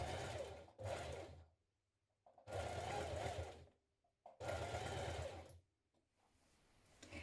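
A sewing machine stitches teddy bear ears in several fast, steady runs, each lasting about a second, with short quiet pauses between them. The buzz is close and clear, with no one talking.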